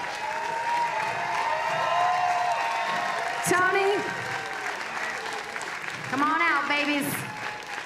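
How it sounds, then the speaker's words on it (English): A crowd at the Miss Island Queen 2025 pageant claps steadily through the whole stretch while an emcee talks over it, with scattered cheers and whoops rising near the end. "Let's hear you clap, let's hear you sing,"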